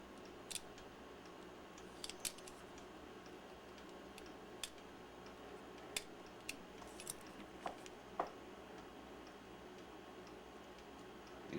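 Small metal clicks and scrapes while the trim ring is worked loose from an Ansco Autoset camera lens, a few sharp ticks scattered over a quiet, faint background with no talk.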